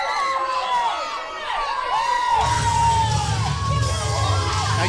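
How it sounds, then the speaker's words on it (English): An independent wrestling crowd cheers and shouts in a lively, sustained roar, with whoops and yells rising midway, while a commentator talks over it. "Now you know the crowd loves to see that."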